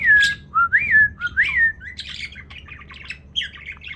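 A pet budgie close by lets out a run of sharp squawks and whistled chirps, several loud rising calls followed by quicker, softer chatter.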